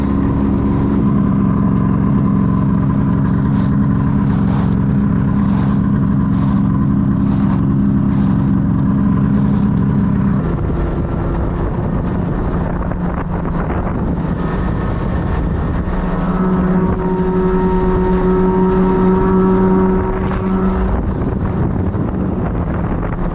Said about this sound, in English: it's kind of going slow and pulling the toboggan and not trying to overheat the sled